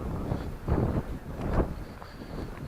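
Gusty wind buffets the microphone outdoors at a fort in Malta, with rumbling low bursts swelling and fading in uneven waves and no talking.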